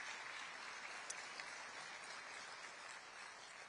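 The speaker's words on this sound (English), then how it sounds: "Please give them a round of applause." Steady applause from a crowd at a Detroit Economic Club speech, dense and even throughout, with no voices over it.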